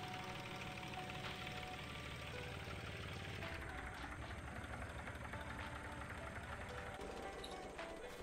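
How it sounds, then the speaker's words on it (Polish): In the farming video game Farmer's Life, a tractor engine idles with a low, steady knocking rumble. It sounds faint and constant, with a voice talking over it. "Odstawiamy traktor tutaj na bok."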